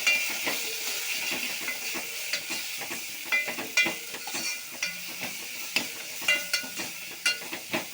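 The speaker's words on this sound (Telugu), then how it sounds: "వామాకు వేసి మంచిగా ఫ్రై చేసుకోవాలి" Washed ajwain leaves fry in a little oil with turmeric for a vaamu aaku pachadi, a steady close sizzle broken by repeated scraping and clinking strokes of a spatula against the pan, no voices.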